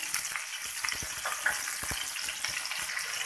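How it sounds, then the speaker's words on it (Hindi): Spices with crushed chilies, roasted crushed coriander, salt and turmeric roast in hot oil, a close, steady frying hiss with quick scraping stir strokes throughout; nobody speaks. "इस मसाले को अच्छे से भून लेंगे"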